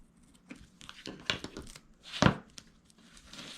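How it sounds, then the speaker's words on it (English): Tape being torn off a roll while making a shoulder bag from plastic placemats: a few soft crinkling rips leading to one sharp, loud tearing burst, close by with no talk. "we're going to go ahead and take some tape, and we're going to place that tape"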